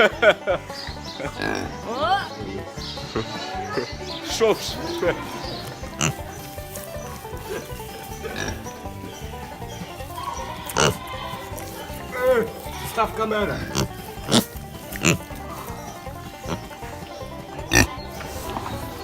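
Pigs grunting and snuffling at close range in a farmyard, with goats nearby, short rough calls scattered throughout while people talk and exclaim over them.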